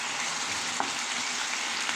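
Ground beef frying in a pan, a steady dense hiss and crackle heard close, with one faint scrape partway through and no talk.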